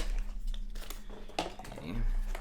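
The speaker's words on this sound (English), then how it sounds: "I guess there's no way to open this without ripping it" Labubu blind-box packaging ripped open by hand, close crinkling and a sharp tearing burst midway, with a voice talking over parts of it.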